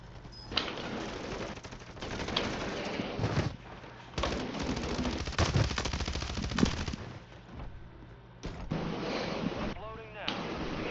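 Gunfire in a Warzone 3 Plunder match, rapid automatic bursts mixed into a dense roar of wind and in-game noise, with a few brief louder spikes and some talk under it.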